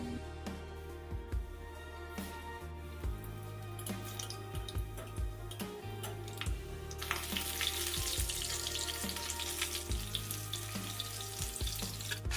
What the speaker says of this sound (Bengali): তেল গরম হতেই প্রন ললিপপগুলো আমি ভেজে নেব।